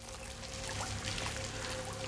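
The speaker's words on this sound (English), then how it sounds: "So now we're able to go back through the waterfall." Rushing cascade of a waterfall in Senua's Saga: Hellblade 2, a steady broadband pouring wash with no pauses, moderately loud and continuous throughout.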